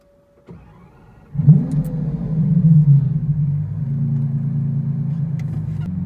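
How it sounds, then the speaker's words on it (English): A Lamborghini Aventador fires up for launch control, a click followed by a sudden deep engine roar that swells and then settles into a loud steady rumble, close up with no talking. "first we're going to do a little launch control on the Aventador"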